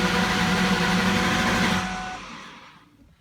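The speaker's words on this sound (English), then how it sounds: "just crank it, and it won't start" A 2003 Ford Mustang SVT Cobra engine cranks without catching, a close, steady whirring drone for about two seconds that then winds down and trails off, with no voices.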